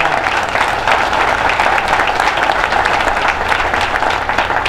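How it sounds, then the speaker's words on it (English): A crowd at a baseball stadium ribbon cutting applauds in a dense, continuous wash of clapping, loud and steady throughout with no talk on top. "Give them a round of applause."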